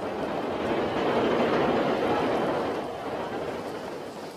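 A subway train rumbles past below street level in a loud, steady broadband roar that swells slightly near the middle and then eases off, with no voices over it.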